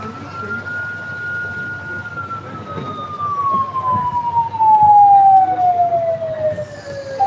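An ambulance siren wails in a long, continuous tone that slowly sweeps downward, growing louder and closer over a rumbling street background.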